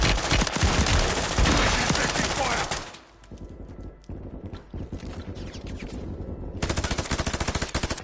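Video game gunfire: dense automatic bursts, loud and close, pause for a moment and then resume as rapid rattling fire with scattered single shots.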